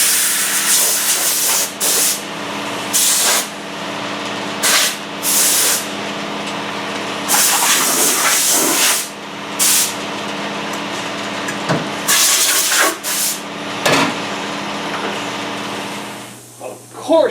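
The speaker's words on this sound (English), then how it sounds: "Blow the leaves out of it before I cover it up." Compressed air blows leaves out of a car cover in a workshop, sounding as loud, repeated hissing bursts of varying length separated by short pauses, with a steady background hum between them.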